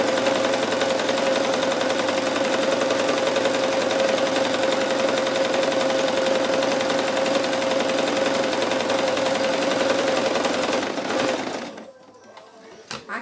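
A sewing machine stitches a seam on a fabric nativity scene, a steady close whirring hum that runs continuously for about eleven seconds before stopping abruptly, followed by faint handling noises.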